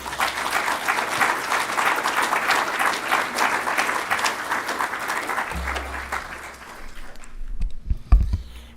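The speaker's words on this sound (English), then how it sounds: "We salute you and applaud you." A church congregation at a bi-annual general meeting applauding, dense sustained clapping from a sizable crowd that fades out near the end, followed by a few clunks and a brief murmur.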